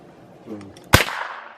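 A single sharp gunshot fired at an outdoor target, loud and close with a short echoing tail, preceded by a brief low murmur.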